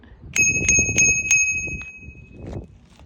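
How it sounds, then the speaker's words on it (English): Four quick, clear dings of a little old-fashioned bike bell on an e-bike ring out up close, followed by a fading ring and light rattling. "Like the old-fashioned bike bells."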